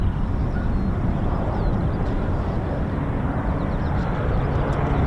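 A Beechcraft aircraft at RAF Waddington produces a steady, broadband engine roar that holds fairly constant from start to finish, with faint bird chirps above it.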